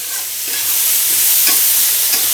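Mushrooms roast in a pan, a close and loud frying hiss with repeated scraping stirs every half second or so.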